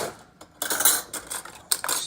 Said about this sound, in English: stir it around a little bit.